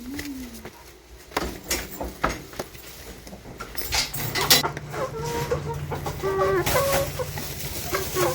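Backyard chickens cluck and coo repeatedly at close range, with scattered rustling and a few other bird calls mixed in.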